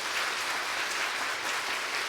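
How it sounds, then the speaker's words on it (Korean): Applause fills a church during a year-end New Year's Eve service, a steady, even wash of many hands clapping at once, moderately soft and continuous throughout. "크게 박수 부탁드립니다"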